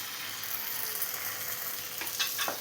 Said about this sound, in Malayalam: ഞാനിതിലോട്ട് ഒരു നെല്ലിക്ക വലുപ്പത്തിലുള്ള പുളി പിഴിഞ്ഞ് വെച്ചതാണ് ഒഴിച്ചു കൊടുക്കുന്നത്.